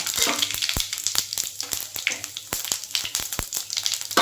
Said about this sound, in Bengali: এখন বন্ধুরা তেল গরম হয়ে গেছে একটু তেল দিয়ে দিয়েছি এখানে আমি ফোড়নে দুটো তেজপাতা তিন টুকরো শুকনো লঙ্কা আর একটু জিরে সাদা জিরে নিয়েছি ফোড়নে দিয়ে দিলাম